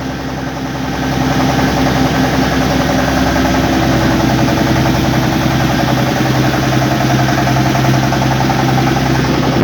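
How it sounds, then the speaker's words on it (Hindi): A Petter diesel engine drives a flour mill (chakki), chugging loudly and steadily with a rhythmic knocking beat. The engine starts slightly softer and then holds a constant, close, heavy drone, with no talking. "पीटर पे चक्की चल रही है जी।"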